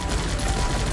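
Guns Up! video game gunfire: a dense, continuous rattle of rapid shots, loud and close, filling a single second with no voices.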